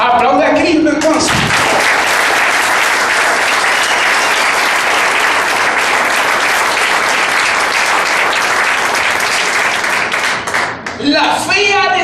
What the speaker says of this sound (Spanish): Aplaude a Cristo entonces.